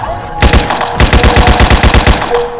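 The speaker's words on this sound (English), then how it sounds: "I can't stop shooting." Rapid automatic gunfire from a Roblox video game bursts out loud and continuous, a fast string of sharp shots close up, with a tone humming underneath.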